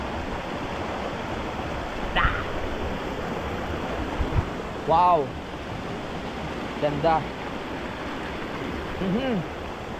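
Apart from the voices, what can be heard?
river water flowing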